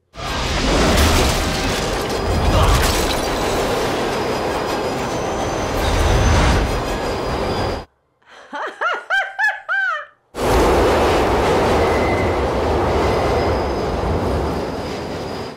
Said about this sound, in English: See, careful, train could come.